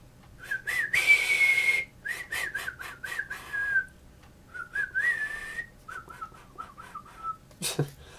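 A person whistles a wavering tune in short phrases and held notes, close and clear, with brief pauses and a sharp noise near the end.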